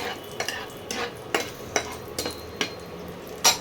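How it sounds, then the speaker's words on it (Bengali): Two dry red chillies and four cardamom pods crackle in hot oil left from frying eggs for an egg curry, giving a soft steady sizzle broken by sharp clinks of a spoon stirring the pan. "2টো শুকনো লঙ্কা আর 4টে এলাচ ফাটিয়ে ফোড়ন দিলাম"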